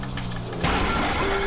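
In Grand Theft Auto V, a boat engine sounds faulty, a close, steady mechanical drone that shifts abruptly into a rougher, louder roar partway through, with no speech over it.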